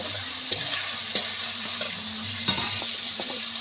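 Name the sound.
onion and tomato frying in a pan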